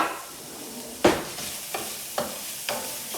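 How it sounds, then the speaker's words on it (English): Diced onion sizzles and crackles in a hot pot, with a few close scraping stirs at regular intervals over a soft steady frying hiss. "I'll first throw the onion in the pot, and you can hear it's already heating, sizzling,"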